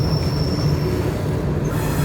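A train in downtown Denver grinds past with a loud, steady rumble and a high, thin wheel squeal held for most of the moment before it drops away.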